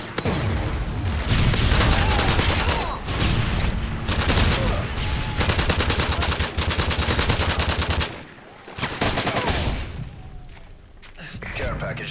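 A UMP submachine gun and grenades sound in a first-person shooter game on the Village map. Dense rapid automatic bursts and booming blasts repeat with short pauses between them. A voice is also present.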